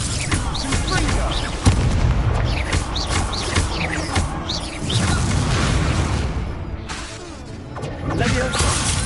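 Confringo and Expulso spell blasts in a Hogwarts video game: repeated booming explosions and crackling impacts burst one after another, loud and close, while a player shouts spell names over the battle.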